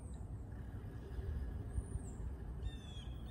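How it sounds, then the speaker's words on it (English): A mini split air conditioner compressor runs inside a Sprinter van as a steady, faint low hum and rumble, continuous throughout with no talk, occasional faint higher squeaks above it. "This is the sound of the compressor going."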